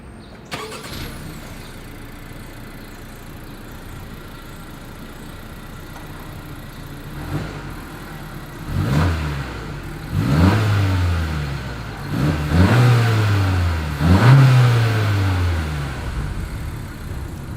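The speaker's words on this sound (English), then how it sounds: "Here is that exhaust clip." A 2021 Honda CR-V's exhaust, heard starting up, settling into a quiet idle, then revved in four or five sharp rising bursts that grow louder, with no voices.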